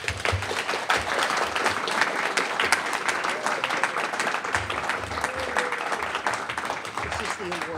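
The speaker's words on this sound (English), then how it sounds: "join me in a round of applause in presentation of this award to the Senator" Applause fills a room at a community services annual meeting as an award is presented to a Senator, sustained clapping from a sizable audience with a few voices mixed in.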